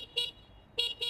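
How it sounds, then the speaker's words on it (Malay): The horn on an Aveta Nova 160SE motorcycle gives three short, bright beeps: one, a pause, then two in quick succession, loud and close. "itu dia punya horn"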